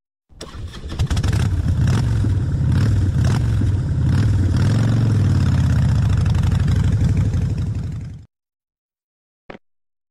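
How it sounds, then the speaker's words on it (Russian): A motorcycle engine runs steadily and loudly for about eight seconds with revving swells, then cuts off, followed by a short faint click. "Мотоцикл."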